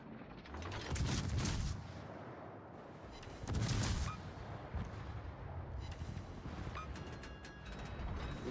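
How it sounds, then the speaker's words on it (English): Secondary guns and anti-aircraft guns firing in a video game: continuous rumbling, rapid fire with two heavier booming surges. Mechanical clatter runs throughout, and there is no talk. "Secondary to AA guns enabled."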